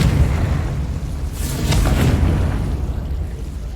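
A Confringo blasting spell in Hogwarts Legacy: a single loud, muffled explosive burst over a low rumbling background, with a bright crackling spray that fades over about half a second.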